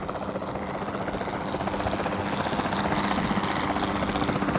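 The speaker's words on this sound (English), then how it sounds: "the sensible thing is to take a capture team helicopter" A capture team helicopter in Jurassic World Evolution 2 whirs with steady rotor chop, holding a constant loud drone that swells slightly partway through, with no voices.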